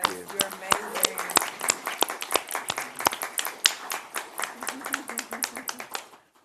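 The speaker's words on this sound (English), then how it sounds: "I do think that warrants a round of applause" A small group claps at a behavioral health commission meeting, giving a loose, uneven round of applause with distinct close hand claps, and voices talk over it before it trails off.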